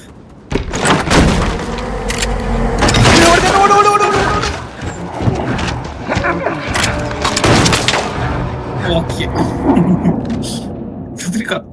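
Gunfire in the video game Little Nightmares II sounds as a series of heavy booming shots and thuds in irregular bursts, fairly loud, with a person talking over the game sounds.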